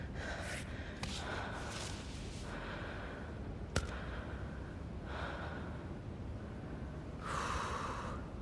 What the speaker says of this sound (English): You hear her breathing.